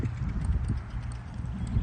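Horse trotting in draw reins during a riding session, its hooves giving a steady, close clip-clop rhythm throughout.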